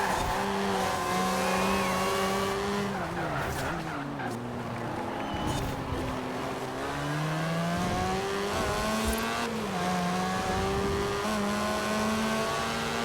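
A Mazda RX3 in Forza Horizon 4 spins its wheels in first gear, the engine droning and revving continuously with a wavering pitch over tire squeal, steady and close throughout.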